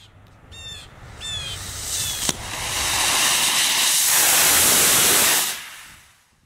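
A sugar rocket motor fitted with a larger nozzle fires on a test stand after a few bird calls. A loud rushing hiss-roar builds and holds for about three seconds, then cuts off abruptly.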